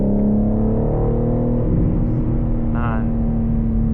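A BMW G80 M3 xDrive Competition with all-wheel drive pulling hard under acceleration, a loud, close engine drone with strong steady harmonics that shift once midway as it gears up, heard from inside the cabin.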